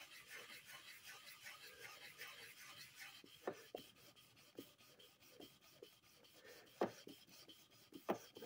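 A cane clarinet reed being sanded by hand in alternating clockwise and counterclockwise strokes, giving a soft continuous rasp punctuated by sharper scraping strokes, close and quiet with no talking.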